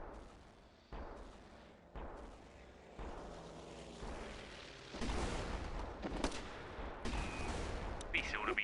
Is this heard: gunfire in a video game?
yes